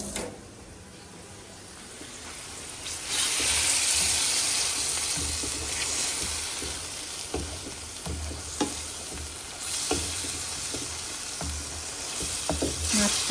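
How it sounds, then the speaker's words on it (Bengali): Baim eel fish sizzling in a pan over medium heat as it is cooked down, giving a continuous crackling fry with intermittent scrapes and clicks of stirring throughout. "মাছটা একটু ভালো মতো কষাবো"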